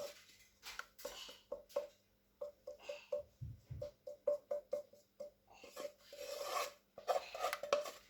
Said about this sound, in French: On va étaler le tout sur toute la surface.